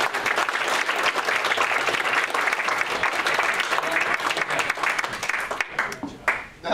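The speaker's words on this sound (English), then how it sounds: "One more round of applause." A room full of people at a Christmas party applauds in a dense, steady burst of clapping that carries on loudly for several seconds before tapering off at the end.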